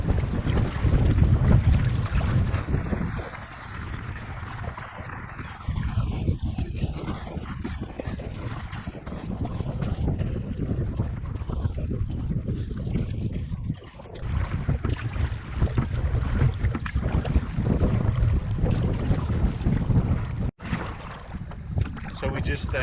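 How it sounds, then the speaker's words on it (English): A canoe moves up a winding river in Algonquin on a wild-weather day, with paddle and water sounds buried under heavy, gusty wind buffeting the microphone throughout. "Side ferry, point your nose and just paddle to one side."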